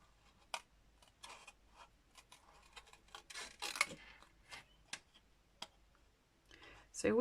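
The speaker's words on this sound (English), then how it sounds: "I'm going to fussy cut around my poppy seeds heads" Scissors fussy-cutting around circular poppy seed head shapes on stamped paper for a neutral-themed card, giving scattered close snips and clicks with soft rustling, under quiet talk.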